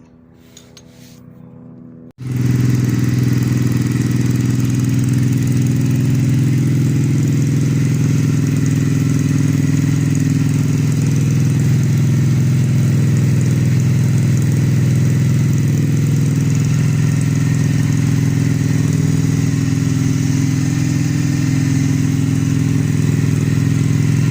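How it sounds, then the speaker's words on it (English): A Triumph America motorcycle engine starts up and runs at a steady high idle, a loud, even rumble that carries on unchanged for over twenty seconds after a brief quiet start. "So now that we've run the engine for a couple of minutes, 2 to 3 minutes up on high idle should be ample."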